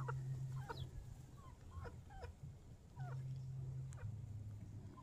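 Backyard chickens cluck and chirp as they eagerly peck at feed, with short rising calls scattered over a steady low hum, fairly quiet and close.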